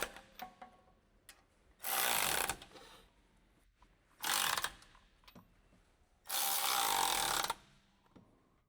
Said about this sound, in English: Using a 15mm deep socket with an electric ratchet wrench,